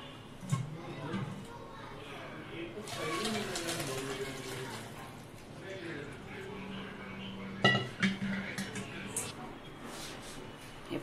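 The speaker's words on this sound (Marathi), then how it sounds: "आता हे सूप आपण गाळून घेऊया।" Broccoli soup being strained through kitchen utensils, with metal pot and dish clinks and clatter mixed under nearby speech, including a sharper clatter burst partway through.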